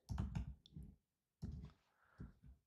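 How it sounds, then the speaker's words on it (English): Typing on a computer keyboard: quiet, close clusters of rapid key clicks in short bursts separated by brief pauses, with no talking. "Sorry for all the typing noise."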